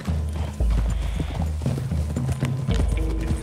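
Horse hooves clip-clopping at a walk in Red Dead Redemption 2, a steady, close rhythm of hoof hits on ground with some tack rattle, no talking.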